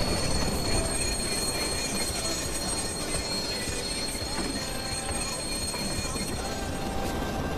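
Train rolling past in the video game Watch Dogs, a continuous rumbling clatter with metallic wheel squeal and high tonal screeches running steadily throughout, fairly close and loud.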